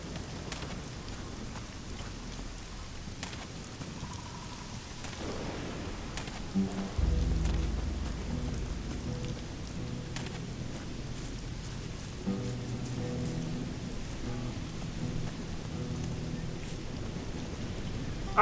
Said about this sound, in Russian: Гроза началась.